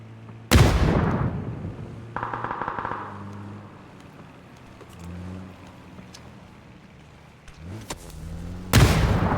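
Loud gunfire in the battle royale game PUBG: a sharp shot opens the clip, a quick burst follows a second later, then scattered quieter shots, and another heavy blast lands near the end.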